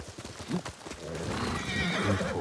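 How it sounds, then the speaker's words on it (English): A horse in the video game Ghost of Tsushima lets out a close, loud whinny, with clip-clopping hooves and game ambience around it. No one speaks. "Let me get my horse."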